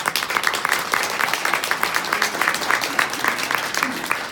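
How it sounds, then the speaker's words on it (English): Audience applause at a luncheon honoring behind-the-scenes workers, a steady dense patter of many hands clapping throughout, fairly loud and continuous with no talk over it. "Please give them a round of applause."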